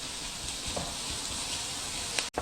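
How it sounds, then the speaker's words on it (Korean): Squid stir-fries with a seasoning sauce in a pan, giving a steady, close sizzle with a soft stirring scrape and a brief clatter near the end. "이렇게 양념이 볶아지면서 오징어가 또 점점 익습니다"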